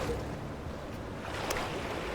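Rough sea water churns and sloshes in the game The Last Caretaker, a steady low wash of waves that stays continuous and fairly quiet throughout.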